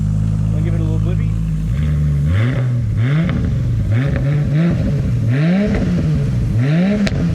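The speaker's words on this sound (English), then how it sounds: "Maybe give it a little blip too, because I haven't heard the cat delete exhaust." A turbocharged Holden VL Calais is blipped repeatedly through a cat-delete exhaust, each sharp rev rising and falling in quick succession over a loud idle, close to the car, with people talking over it.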